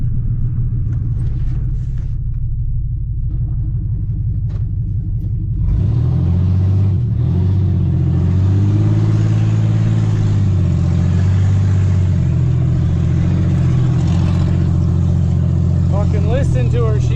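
A Chevy truck with a failing transmission revs hard, its engine shifting from a lower rumble into a loud, sustained roar whose pitch rises and falls as the revs climb and drop.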